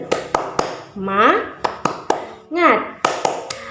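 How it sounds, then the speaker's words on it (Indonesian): Children and an adult clap a rhythmic chant together, sharp claps landing in a quick pattern with sung voices rising between them, close and loud in a first-grade class. "Kita tepuk semangat terlebih dahulu yuk, bareng kakak."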